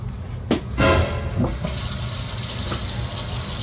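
A sink tap that had been kicking from an air pocket is turned on, sputtering with a few bursts and knocks before settling into a loud, steady close-up gush with no speech.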